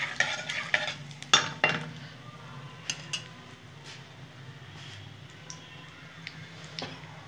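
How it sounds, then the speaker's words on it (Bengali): Cumin and radhuni seeds tempering in hot oil for a bottle gourd curry, with a soft sizzle under sharp spoon and pan clatters early on, then quieter crackling with occasional taps. "জিরা ফোড়ন দিয়ে দিলাম বন্ধুরা, সাথে রাঁধুনি।"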